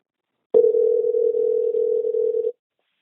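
A steady telephone dial tone sounds alone for about two seconds and then cuts off abruptly, with silence before and after.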